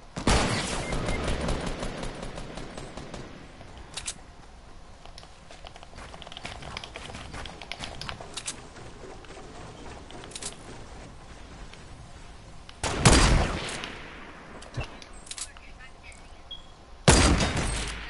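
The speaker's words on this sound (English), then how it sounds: "let me try a sniper from down here" Sniper rifle fire in a PS4 video game: a couple of loud, sharp, isolated shots ring out after a stretch of quieter gunfire and game noise, with people talking in the background.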